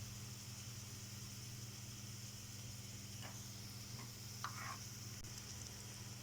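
Potato kebabs (aloo tikki) frying in a pan give off a steady, quiet sizzle under a constant low hum, with a few brief crackles and pops near the end and no talking.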